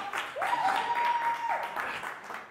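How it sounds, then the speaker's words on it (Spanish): A studio audience at a Mexican television comedy show gives brief applause, the clapping rising and then tapering off while a voice rings out above it. "El aplauso para mi compañero."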